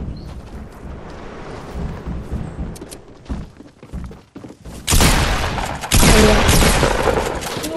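Shotgun gunfire in a video game: a scatter of muffled shots and thuds, then a burst of loud, heavy blasts in quick succession near the end, with little talk.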